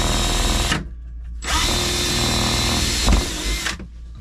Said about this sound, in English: you're gonna need a 1/4 inch drill bit for this